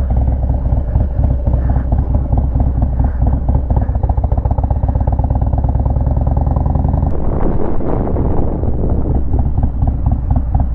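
A 2020 Harley-Davidson Low Rider S motorcycle is ridden, its V-twin engine producing a loud, steady, throbbing low rumble with rapid pulsing, shifting pitch partway through amid some wind noise.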